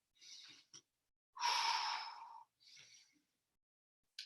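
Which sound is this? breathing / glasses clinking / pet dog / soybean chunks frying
breathing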